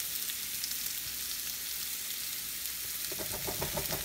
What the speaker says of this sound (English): I'm just gonna scrape the bottom real quick